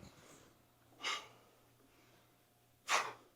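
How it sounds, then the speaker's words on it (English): Two sharp, forceful breaths a couple of seconds apart stand out over quiet background hum, close to the microphone. "you kind of hear him breathing through his mic, in through the nose, exhaling through the mouth"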